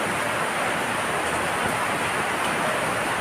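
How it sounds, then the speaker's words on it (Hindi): Heavy rain pouring outside a home beside a road, a steady, dense broadband wash of noise that holds evenly for the whole stretch with no talking over it. "इतनी बारिश, तेज बारिश हो रही है"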